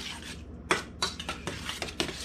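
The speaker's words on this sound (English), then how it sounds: "Pour it out, take it out of the can and put it in the kettle and heat it up." Canned Campbell's SpaghettiOs with meatballs being stirred and heated in a pot, with a run of close metallic clinks and scrapes of utensil against cookware at an uneven rhythm, and no talking.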